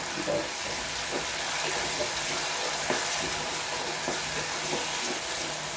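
Ginger and garlic hit the oil in a pan on a stove being turned up to high, giving a dense continuous sizzling hiss with faint stirring taps throughout, close and steady.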